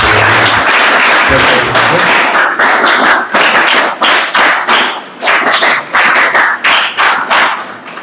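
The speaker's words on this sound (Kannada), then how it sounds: "ಜೋರಾದ ಚಪ್ಪಾಳೆಯೊಂದಿಗೆ ಗೌರವ ಸಮರ್ಪಣೆ ಮಾಡ್ತೀವಿ" A crowd at a high school ceremony honouring top students claps loudly and continuously, the close, dense applause pulsing in bursts with a few brief dips, and a short stretch of talk at the start.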